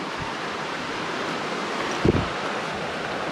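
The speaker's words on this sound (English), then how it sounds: "the water's right down here, it sounds like, which is cool." Steady, broad rushing of water flowing just below a campsite on the Six Husbands Trail, continuous and fairly loud throughout, with one brief low thump partway through.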